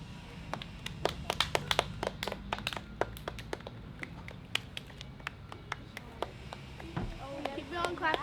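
Children clap their hands during a game: sparse, sharp claps sound at irregular intervals, fairly quiet, under chatter and voices.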